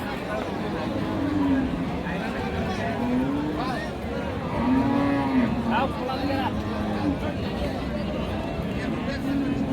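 Cows bellow in a string of long, drawn-out moos at the Ambari cattle market in Dinajpur, rising over a steady hubbub of crowd chatter and nearby voices.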